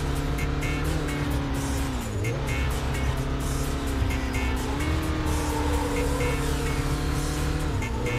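A Porsche 944 Cup car engine in the racing game Need for Speed: Porsche Unleashed drones steadily and loudly, its pitch dipping and climbing at gear changes, with faint tire noise underneath.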